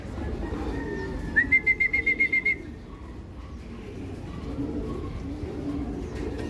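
At a racing pigeon loft during a derby, a bird gives a brief run of repeated whistling coos, about eight quick pulses, over soft outdoor background rumble.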